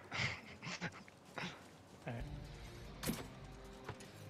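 A dog found trapped in an enclosure in the video game Far Cry New Dawn whimpers and pants in short, irregular bursts, close and moderately loud, with game mechanisms clanking and someone speaking in between.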